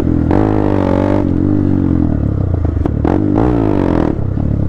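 A motorcycle engine revs hard with a slipping clutch during wheelie practice, the loud rising and falling drone holding steady with brief dips and a second surge of revving near the end.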